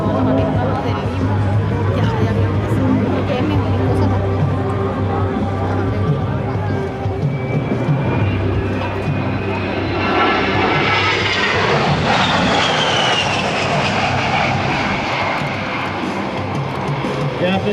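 An A-10 Thunderbolt II jet performs a demonstration maneuver at a military open house air show, its loud engine roar rising and sweeping past overhead, with crowd murmur and a public-address voice talking beneath.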